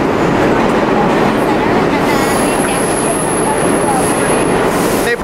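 Loud, continuous roar of a New York subway train in motion, with rhythmic clatter of the wheels and a thin high-pitched squeal of metal on rail emerging partway through; faint voices sit beneath the din.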